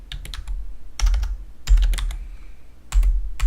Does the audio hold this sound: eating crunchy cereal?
no